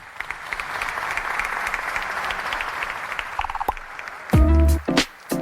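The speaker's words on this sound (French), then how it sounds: "Des applaudissements." A crowd claps in a steady, distant patter, followed by a few loud, abrupt bursts of noise at the end.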